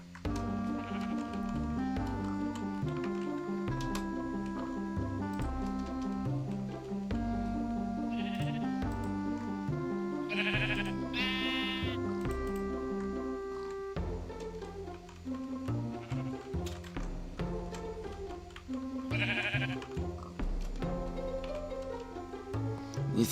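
Sheep bleating in the video game Minecraft, several bleats standing out over steady in-game background music.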